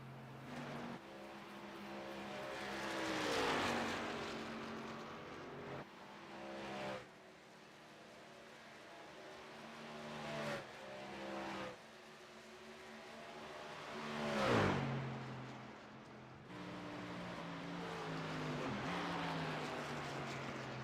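Racing trucks in an oval series race at Kansas Speedway roar and whir past, engine tones swelling and fading as they pass at a distance, with one sharper loud pass midway through a continuous track drone.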